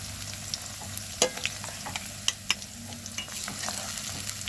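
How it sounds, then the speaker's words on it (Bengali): Onions and green chillies fry in a pan, a steady low sizzle broken by sharp scrapes and clacks of a spatula stirring them, close and without talk. "কাঁচা লঙ্কা আর পেঁয়াজটা আমার লাল লাল ভাজা হয়ে গেছে।"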